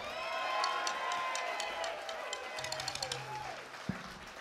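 A concert audience at Roy's Hall in Blairstown, New Jersey applauds a band member during a live blues set, a dense wash of clapping beneath a speaking voice over an amplified sound system.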